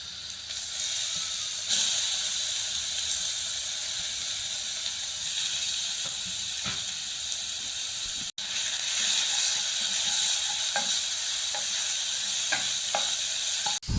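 Chunks of mashed shark fish sizzle steadily in hot oil with ginger-garlic paste in a pan, a dense continuous frying hiss with light stirring scrapes, close and loud, no talking.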